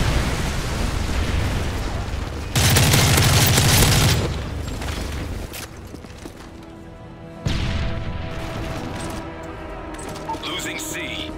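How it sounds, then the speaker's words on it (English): Predator missile strike in a video game, a loud booming explosion burst followed by a second heavy impact, with game radio chatter and voices around it. "Friendly Predator missile inbound"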